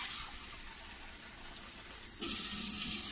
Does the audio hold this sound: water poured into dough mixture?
yes